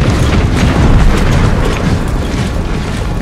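Cannon fire in an Empire: Total War mod battle, a loud dense rumbling barrage of booms blending into continuous roar with no speech.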